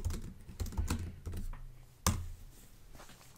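Someone types a ChatGPT prompt on a computer keyboard, with quick clusters of close clicking keystrokes, uneven in rhythm and ending on one harder key press, with no voice.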